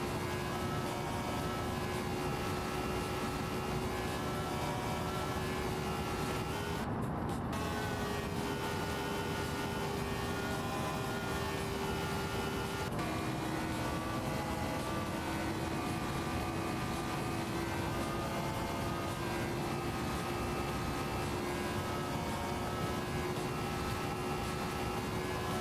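Race car engine droning steadily on an oval track in a racing video game, a sustained tonal whine at constant throttle with a slight pitch drop partway through and no speech.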